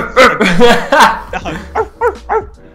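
A man imitates a dog with his voice, giving a run of loud, close barks and yips in uneven bursts, the later ones shorter and spaced apart.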